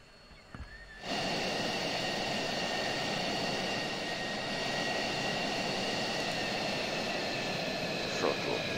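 A jet engine in the Falcon BMS flight simulator throttles up out of idle, swelling into a loud, steady roar with a high whine layered on top that holds for several seconds.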